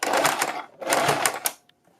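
Sewing machine stitching a neck strip on a kurti, two brief close bursts of rapid needle chatter separated by a short pause, then a few faint clicks.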